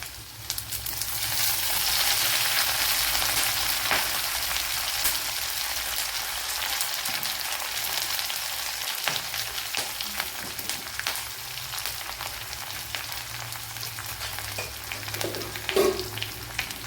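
Garlic, green chili and curry leaves fry in a pan with a continuous bright sizzle and crackle, steady and close, with occasional stirring clinks and no talk.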